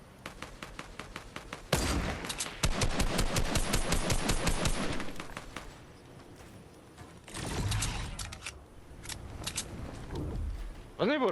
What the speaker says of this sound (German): Da hat er zugeschossen, oder?